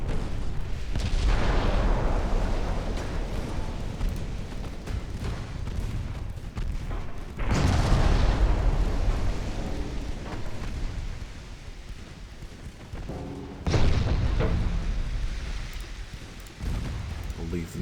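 Warship guns and torpedoes firing in the naval game Ultimate Admiral Dreadnoughts, 1940-era British fleet battle: repeated heavy booming salvos with rumbling tails, loud and dense, under occasional talk.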